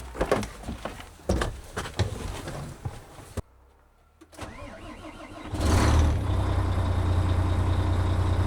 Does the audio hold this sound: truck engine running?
yes